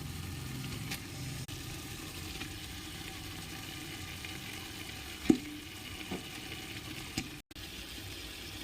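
Chicken pieces frying in a pan with cooked-down spices for biryani, a steady soft sizzle throughout with occasional stirring clinks and no talk.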